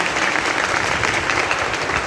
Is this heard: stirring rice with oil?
no